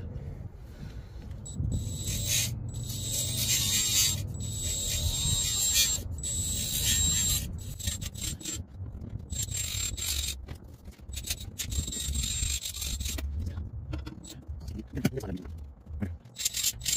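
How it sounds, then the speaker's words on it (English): A grinder works at the old oil pan gasket of a Scion xB, giving close, intermittent high whining bursts mixed with rough scraping and mechanical rubbing, starting and stopping throughout. "I'm going to use my grinder for the rest of it."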